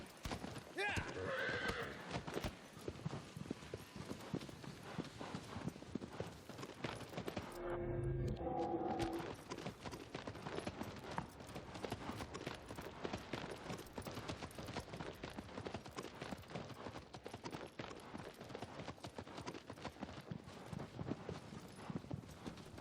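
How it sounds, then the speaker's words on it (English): Horse hoofbeats in the Shadow of the Colossus video game, a steady rapid clip-clop of galloping running through nearly the whole stretch, with a whinny and a short break partway in, loud and continuous. "Agro is a simulation of a horse and can run at whatever speed I want it to."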